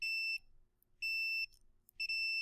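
A digital multimeter in continuity mode gives three clear electronic beeps, each a steady high tone lasting about a third of a second, loud and close with brief silences between them.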